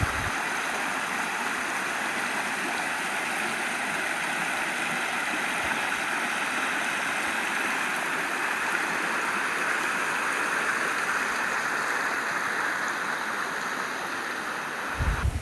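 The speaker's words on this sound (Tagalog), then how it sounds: "maririnig mo na agad ang napaka-relaxing na agos ng tubig" Steady rushing river water flowing in a continuous broadband wash, close and even throughout, with no voices.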